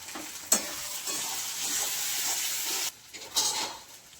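Food frying in pure ghee and being stirred, a steady hissing sizzle with clinks of the spoon against the pan and a brief dip midway.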